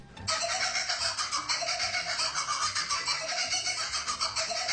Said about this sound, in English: It was actually the sped up laughter of the kookaburra.